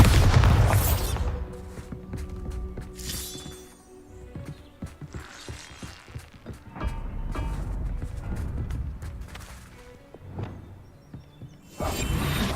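Spell effects from Hogwarts Legacy, the Bombarda, Confringo and Expelliarmus spells cast in rapid succession, giving a run of loud booming blasts, whooshes and crashing impacts that rise and fall across the whole stretch.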